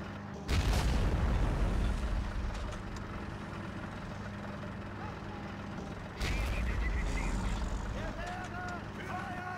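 High-explosive shells fire in the video game Normandy '44 as two heavy booming blasts a few seconds apart, each followed by a rumbling tail, with a voice talking over the battle noise.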